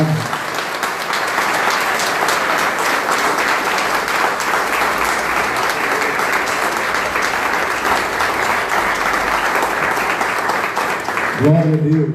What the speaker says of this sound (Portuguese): Aplauda o Senhor bem forte pela Sua palavra.